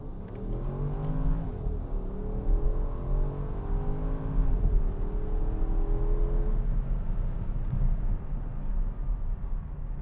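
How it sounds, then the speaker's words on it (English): A 2014 Porsche Cayenne Turbo S, a twin-turbo V8 all-wheel-drive SUV in sport mode, accelerates hard from inside the cabin, its engine note climbing through rising gear sweeps, loud and continuous over about ten seconds. "I'm gonna give it a little gas and you can get an idea of what it's like."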